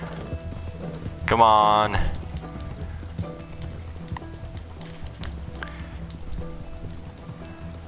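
Horse hooves gallop in Red Dead Redemption 2, a rhythmic clip-clop running steadily under a man's brief spoken words and a short burst of a horse's whinny.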